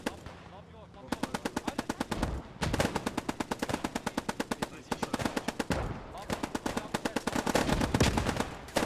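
Machine gun fire in Post Scriptum, a World War II game set during Operation Market Garden: three long, loud sustained bursts of rapid, evenly spaced shots with brief pauses between them, and faint talk in the gaps.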